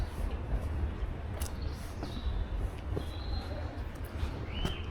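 A faint, steady low rumble of a passing train carries across a bird park in Deventer, Netherlands, with a few thin bird chirps over the top and nobody speaking.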